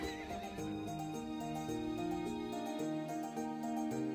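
In the video game To The Moon, a horse whinnies over soft background music, the neigh blending with steady melodic notes throughout.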